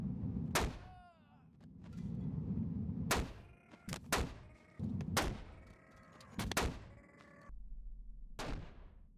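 IPSC 2011 pistol fired in the Boneworks video game, about six sharp loud shots at irregular intervals, each followed by a brief ringing tail, with a low rumbling background between them.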